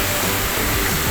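The Pungbunga waterfall roars as a loud, steady, broadband rush of falling water, heard close and continuous with no break.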